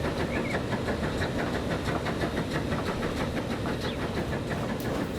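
Steam locomotive in Transport Fever 2 running steadily with a dense, continuous rumble and rhythmic clickety-clack of wheels over rail joints, loud and unbroken throughout with no talking.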